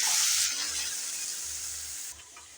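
Steady, loud sizzling of chopped onions frying in hot oil, a bright hiss that continues throughout with slight shifts in intensity.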